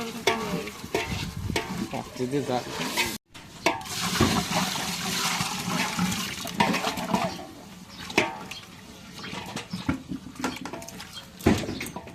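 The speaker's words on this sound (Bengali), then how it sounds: "এই খিচুড়ি চাউলটা যত ঘামাবে অত খিচুড়ি মজা।" Khichuri rice stirred in a large pot while cooking for an iftar meal, with repeated loud scraping and churning strokes over a sizzling, watery bubbling. A brief dropout comes early, and the sound is close with no talk.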